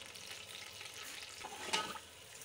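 Sugar melting in hot ghee in a pan for sweet rice zarda, a soft continuous sizzle and crackle with a brief louder stir near the end, fairly quiet and without speech.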